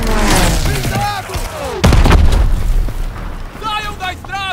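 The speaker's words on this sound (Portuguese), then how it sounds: "Aquilo é disparo de arma antiaérea!" Anti-aircraft gunfire in the Call of Duty WWII video game, heavy booms and explosions during a battle with Stuka dive bombers and Sherman tanks, loud repeated blasts under shouting soldiers' voices.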